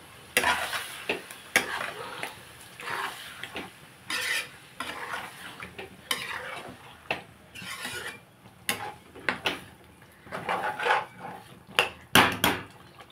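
A pan of chicken curry sizzles as water is added and stirred, producing repeated loud bursts of hissing and spatter with soft scraping between them, close and without talk.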